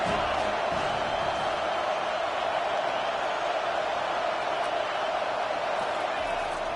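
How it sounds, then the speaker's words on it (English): Stadium crowd noise in the Madden football video game forms a loud, constant roaring wash of massed voices with no breaks, steady and enveloping from start to finish. "This crowd going to try to make life miserable for these guys."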